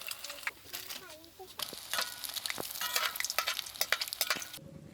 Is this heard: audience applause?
no